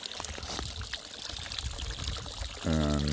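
Water from a water feature tipped off balance pours unevenly off one end in a steady splashing stream, with a low engine-like hum cutting in near the end.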